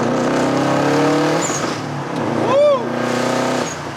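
Subaru STI flybys: a steady engine drone swells and fades, then a sharp doppler pass sweeps by around midway, with a person whooping over the noise.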